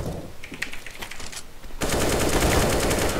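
AK rifle fire in a competitive video game: scattered sharp shots, then a dense, loud sustained burst of rapid automatic gunfire with no talking.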